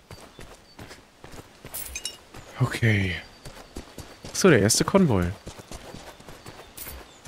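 Horse hooves clip-clop in the video game Robin Hood Sherwood Builders with a quiet, steady rhythm, heard beneath someone talking through most of the stretch.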